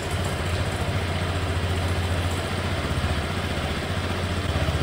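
A Honda PCX scooter engine runs steadily close by, a continuous loud low rumble with an even idle-like throb that holds for the whole stretch, no voices over it.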